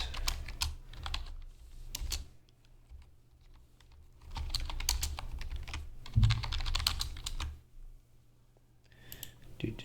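Bursts of rapid clicking keystrokes on a computer keyboard while someone enters JavaScript code, coming in uneven clusters with short pauses between them, close and fairly quiet, with no talking.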